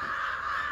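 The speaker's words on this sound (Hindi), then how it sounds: "पता नहीं आज इतनी ज़्यादा कौवा क्यों आया है सर, और बहुत ज़्यादा बोल भी रहा है" Crows caw in a brief harsh burst near a village field, loud and close with no talk over it.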